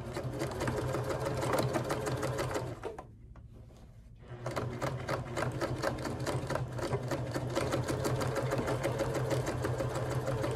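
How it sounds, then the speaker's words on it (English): A sewing machine runs in a fast, steady stitching rattle while sewing across the bottom of a tote bag made from a placemat, pausing for about a second before resuming and running continuously at close range. "I'm going to be sewing right across the bottom here"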